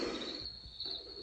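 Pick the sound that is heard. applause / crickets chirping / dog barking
crickets chirping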